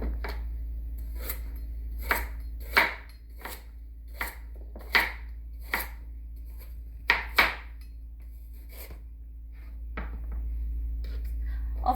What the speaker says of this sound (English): I'll finish cutting these up